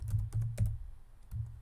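Short bursts of key presses on a computer keyboard, a few quick taps in two clusters with a pause between, close and fairly quiet.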